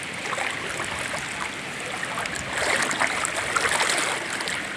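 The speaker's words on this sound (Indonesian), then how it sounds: "Airnya cukup deras. Air keruh bercampur dengan lumpur, juga membawa serpihan-serpihan sampah." Fast-flowing muddy floodwater rushing through a flooded village road, a steady broadband wash and churn that swells slightly louder midway, with no voices.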